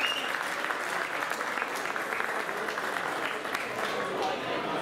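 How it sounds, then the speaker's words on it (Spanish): A crowd at a salsa dance event applauds for Chico, a dense, steady wash of many hands clapping close by with cheering mixed in, holding level throughout. "Aplauso para Chico."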